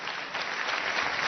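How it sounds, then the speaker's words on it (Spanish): Dense applause filling a national assembly chamber in Venezuela, a steady wash of many hands clapping throughout, with no pauses. "pidiendo amablemente de parte de todos los presentes un minuto de aplauso"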